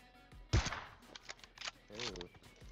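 Sniper rifle fire in the mobile battle-royale game PUBG Mobile: one sharp shot cracks out early, and a second, softer burst follows a moment later, both fairly quiet with faint game noise around them.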